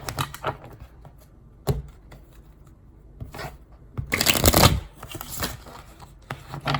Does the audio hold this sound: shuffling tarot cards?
yes